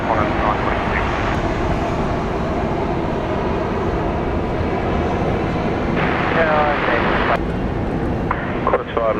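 A Qantas airliner takes off from Sydney Airport's runway 34 left, its jet engines making a loud, steady roar throughout, with faint voices in the background.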